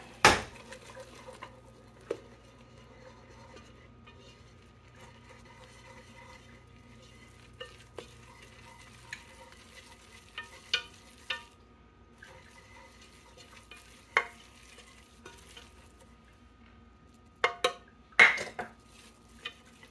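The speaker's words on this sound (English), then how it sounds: "Now you're going to slowly whisk this flour in here" A whisk works flour into a pot of crab soup base off the stove, producing sparse scattered taps and scrapes against the pot over a quiet, hissy background, with a louder burst of knocks near the end.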